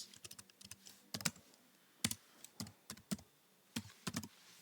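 Typing on a computer keyboard: quick irregular clusters of crisp close key clicks with brief gaps between bursts, fairly quiet, no speech.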